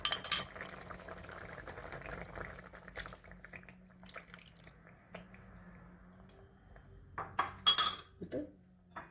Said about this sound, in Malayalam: നമുക്ക് കട്ടിയുള്ള നാളികേരപ്പാൽ ഒഴിക്കാം.